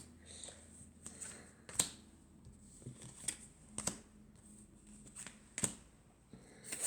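Tarot cards being shuffled for a five-card draw, a series of crisp, quiet card slaps and riffles at irregular intervals, close up and without talk.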